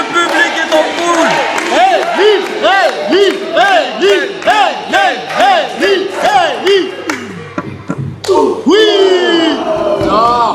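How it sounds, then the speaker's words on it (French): A wrestling crowd roars and cheers continuously, with rising and falling chants and whoops and a louder surge near the end, while a commentator talks over it in French. "Big Dave qui demande le soutien du public. Le public est en foule."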